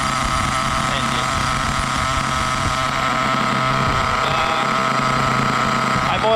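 An HPI Trophy Truggy with a 4.6 (.28) nitro engine idles steadily, a close, loud, buzzing drone that holds an even pitch throughout, with a voice speaking over it.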